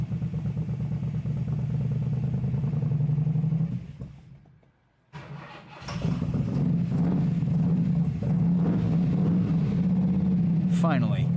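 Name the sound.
460 V8 engine idling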